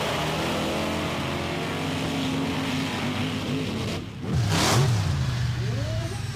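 Ford and Chevrolet monster trucks, including U.F.O. and Carolina Crusher, race side by side on a beach course, their engines a steady loud roar that surges and revs near the end.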